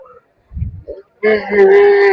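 Cattle being unloaded at a crowded market in Kochukhet, Mirpur, Dhaka, with a sudden loud, drawn-out moo close by after a few brief low grunts and shuffling sounds.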